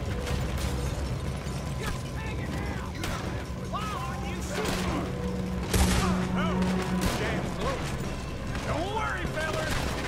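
Gunfire in a Western shootout in the video game Red Dead Redemption 2, scattered rifle and revolver shots cracking at varied distances, one loud close blast among them, with voices talking over the fighting.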